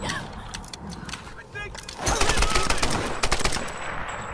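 Automatic rifle fire in the Tomb Raider video game comes in loud, rapid bursts of sharp shots through the second half, preceded by quieter game ambience and rustling.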